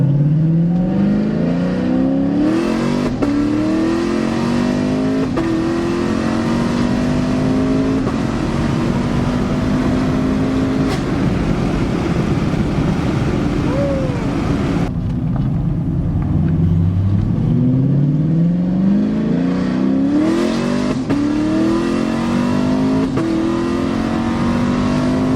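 A 2019 Camaro SS fitted with Speed Engineering headers and a dual exhaust revs loudly and close for a long stretch, its deep engine note climbing and falling through repeated throttle pulls, with a brief lift near the middle.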